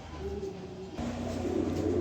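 A pair of racer pigeons coo softly nearby, low murmuring calls over a faint background hum.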